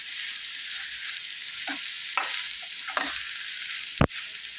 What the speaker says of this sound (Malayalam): ചക്ക ചേർത്ത് നന്നായിട്ടൊന്ന് ഇളക്കി മിക്സ് ആക്കണം